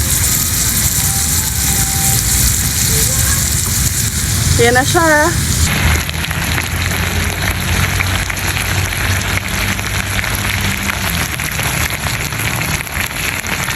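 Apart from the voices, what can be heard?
beef pepper lunch sizzling in a hot pan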